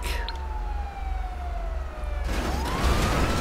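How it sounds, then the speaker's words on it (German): In a video game, an ambulance siren wails with a gliding, falling tone that breaks into a louder burst of noisy traffic sound partway through. "Krankenwagen kommt."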